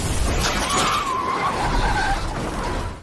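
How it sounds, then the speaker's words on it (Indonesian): A car's tires shriek in a loud, sustained skid lasting a few seconds before another car rams it, the squeal wavering and fading at the end. "mobil mereka ditabrak oleh komplotan Samidi"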